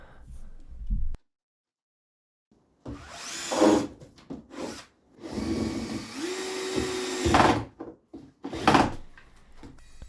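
Power tools at work fitting aluminum trim onto a garage doorstep during a DIY build, with bursts of drilling and whirring separated by short pauses and a clear whine near the middle, alongside wooden knocks and handling clatter.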